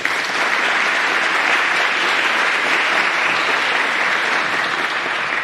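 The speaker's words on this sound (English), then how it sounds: "So I'd like to give them a nice round of applause, please." A college symposium audience breaks into sustained applause, loud and dense, with steady clapping from many hands filling the room for several seconds without any speech over it.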